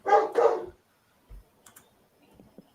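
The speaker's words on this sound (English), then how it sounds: "Sorry about my dog in the background there kicking off." A dog barks twice in quick succession in the background of a home setting, fairly close, followed by faint clicking and small household noises.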